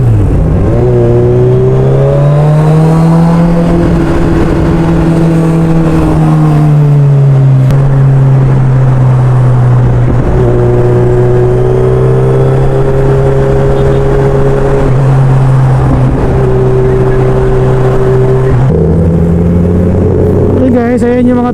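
Car engines rumble and rev loudly near the North Luzon Expressway, droning tones rising and falling as vehicles pass and accelerate, with people talking through it.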